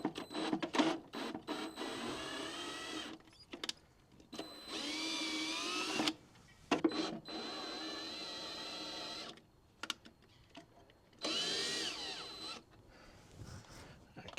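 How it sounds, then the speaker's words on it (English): Power drill tapping screw holes in a boat fitting for DIY green LED rear lights, several bursts of whirring motor separated by short pauses, close and fairly loud with no talk. "I might just tap these screws first, just in case."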